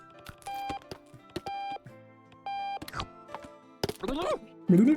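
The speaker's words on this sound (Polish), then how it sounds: "wyłącz ten głupi budzik" A small alarm clock repeatedly beeps in short electronic tones, amid clattering household noises and people talking and laughing nearby.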